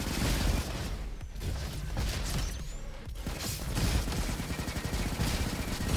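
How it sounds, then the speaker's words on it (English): Windmill rifle rapid fire in the Roboquest video game, a loud, continuous stream of fast gunshots with mechanical clatter and booms, sustained with little letup throughout. "Windmill rifle is also freaking amazing."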